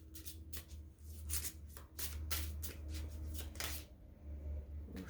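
Oracle cards from an Elemental Oracle deck are shuffled by hand in a steady run of soft riffling bursts, close up and fairly quiet, with no voices.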